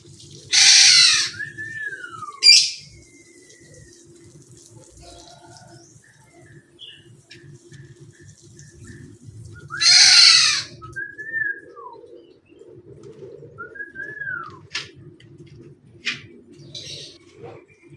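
A pet songbird kept in a hanging cage at home gives a few bright, brief chirps and whistled calls, spaced out between quiet stretches with a low background hum.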